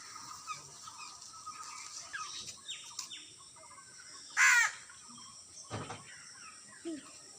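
A crow gives a single loud, harsh caw near the middle, over faint chirping from other birds in an outdoor setting.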